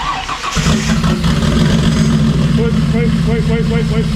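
A Ford Barra engine in a drift car cranks and catches on its first start, then settles into a loud, steady running rumble close by.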